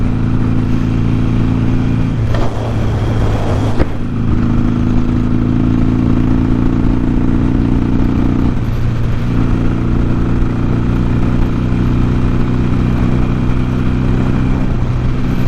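Harley-Davidson Sportster motorcycle at highway speed, a loud, close engine drone with wind rush, shifting pitch a few times as the throttle changes, and no talking.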